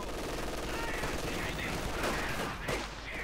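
Rapid machine gun bursts rip through a dense battlefield din as conscript infantry are cut down in Company of Heroes 2, a steady wash of gunfire and explosions with a commentator's voice faintly underneath.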